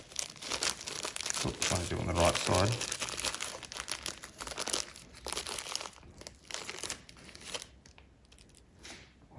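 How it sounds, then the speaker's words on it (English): A piece of plastic bag crinkles and rustles close by while being stuffed around a nut during reassembly of a Scott Bonnar Supercut mower's rear roller, with a person talking briefly over it. "Use a bit of a plastic bag."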